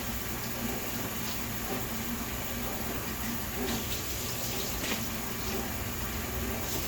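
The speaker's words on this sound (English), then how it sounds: "So I'm just going to wash it with some soap." Running water from a tap pours steadily while an item is washed with soap, a continuous close rushing hiss with faint handling bumps and no talk.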